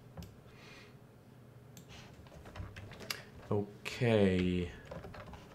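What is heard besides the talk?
typing on a computer keyboard, writing commit messages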